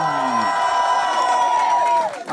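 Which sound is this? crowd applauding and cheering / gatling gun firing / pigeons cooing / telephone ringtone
crowd applauding and cheering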